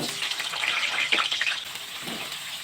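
Potatoes drop into hot oil and set off a loud, bright hiss that swells and crackles for a moment, then settles into a steady sizzle.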